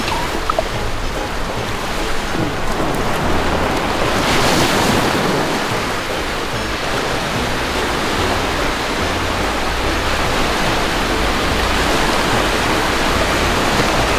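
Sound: sea waves and wind at the beach in Hua Hin

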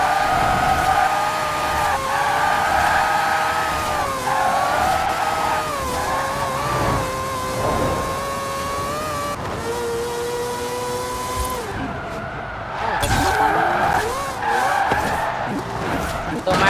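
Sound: car drifting with tire skids in video game Forza Horizon 4

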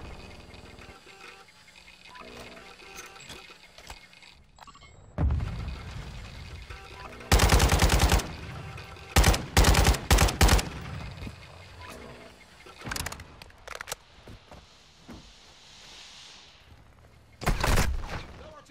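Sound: gunfire at the player in Call of Duty Warzone DMZ video game

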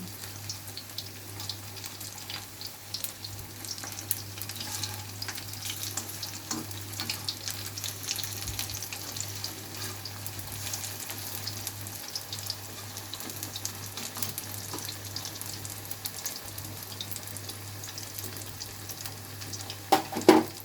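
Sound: prawn fritters frying in oil

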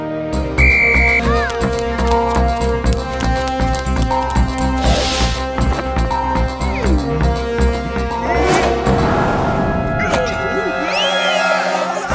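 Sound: whistle blown to start a game in a cartoon

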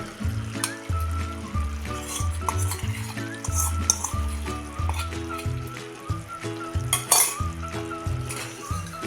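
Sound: pouring spiced oil into amla pickle and stirring

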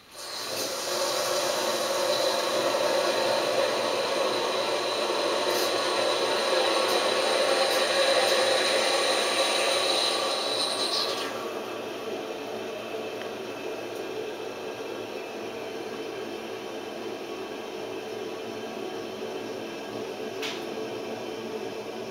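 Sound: toilet pressure tank refilling with water

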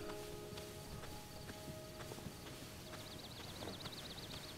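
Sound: horse hooves in Zelda Tears of the Kingdom video game

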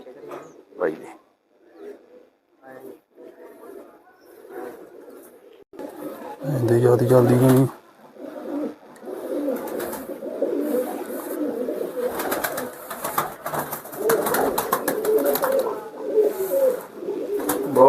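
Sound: pigeons cooing

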